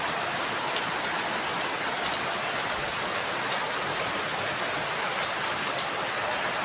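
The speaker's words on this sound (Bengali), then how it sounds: "জোর বৃষ্টি শুরু হয়ে গেল।" Heavy rain pours down steadily at a village home, a dense, even hiss of drops on surfaces with no breaks and no voices.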